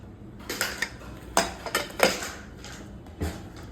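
A pressure cooker of radish sambar being opened after its whistles, giving a run of sharp metallic clanks and clatters of lid and pot, close and fairly quiet, with brief gaps between.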